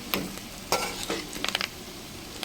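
Spiced pieces frying and being stirred in a pan: soft steady sizzle broken by several sharp scraping stirs, close and alone with no talk.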